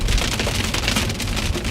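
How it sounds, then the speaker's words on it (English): Small, soft hailstones and rain beat on a surface during a storm near Calgary, Alberta, a loud, dense, unbroken patter of close impacts with no voices. "Oh yeah, that's hail."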